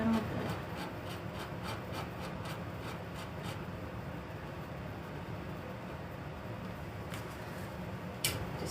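A tool scrapes fine details into the paint on a painting with a soft, steady rasping rub. Brief, slightly sharper scratches stand out near the end over a constant low background hiss.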